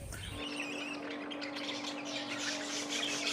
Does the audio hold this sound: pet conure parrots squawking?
yes